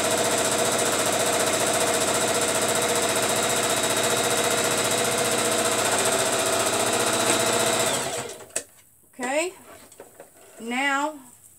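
A sewing machine runs a long steady buzzing stitch along a tote bag seam, close and loud for about eight seconds, then stops as a person begins talking.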